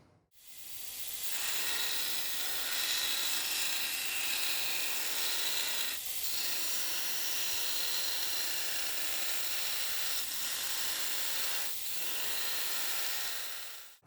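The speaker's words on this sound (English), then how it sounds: "I'm going to go on ahead and take it to 2x72, and we're just going to grind all these edges around" A 2x72 belt grinder grinds the edges of a stainless san mai knife billet, giving a steady, bright, harsh hiss that holds for long stretches and briefly dips a few times as the workpiece is repositioned.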